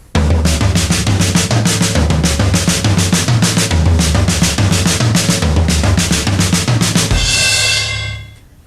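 Fast, continuous drum strokes in a steady flurry, the left hand crossing over the right onto the floor tom, low tom tones cycling underneath and a cymbal wash ringing out at the end.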